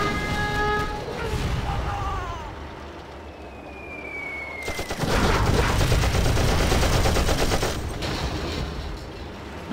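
Units in C&C Generals Zero Hour open fire, sustained automatic gunfire erupting loudly mid-clip and rattling continuously for several seconds, following quieter game tones and a descending whistle, with game voice lines around it.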